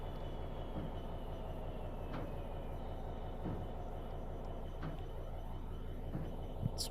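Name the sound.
locomotive traction motors climbing Lickey Bank in a train simulator video game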